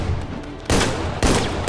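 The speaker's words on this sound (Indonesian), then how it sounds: "Dan di saat Deathstroke mengejar Robin, suara tembakan terdengar oleh Batman yang langsung turun ke bawah lokasi." Gunfire in the animated film Son of Batman: a few loud, sharp bursts of shots ring out one after another against a rumbling background, with no talking.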